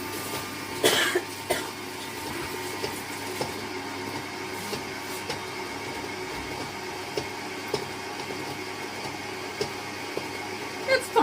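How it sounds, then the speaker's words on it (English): A single loud cough bursts out near the start, followed by quiet room noise with faint scattered clicks and shuffles. "I have this cough that will just not let me be great."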